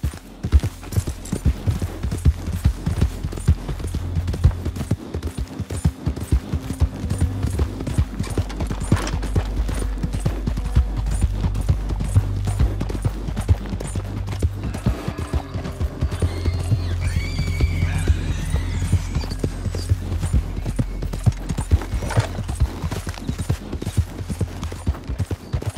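Horse hooves clip-clop steadily while ridden in Red Dead Redemption 2, a continuous close rhythmic trot with an occasional whinny over a low game background.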